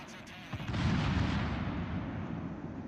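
Heavy naval gunfire from the battleship Bismarck in a naval warfare game, a deep booming roar that swells after a brief crack and rumbles on, moderately loud and without voices.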